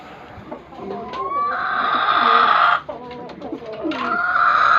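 Loud, close hen clucking and cackling after laying an egg, in a repeated, excited series, with a brief pause midway before the calls resume.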